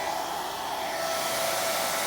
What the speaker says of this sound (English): Don't touch her with the blow dryer.